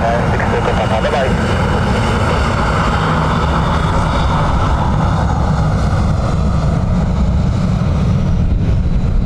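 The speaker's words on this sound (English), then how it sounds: "Runway 10 right, clear for takeoff." A plane on its takeoff run from runway 10 right at Dublin Airport, its steady broad engine roar loud and continuous throughout, with radio talk alongside.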